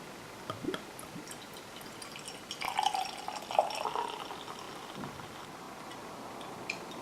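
An IPA beer is poured from a bottle into a glass, giving faint trickling, splashing and dripping with a few small clinks, quiet and close with no speech.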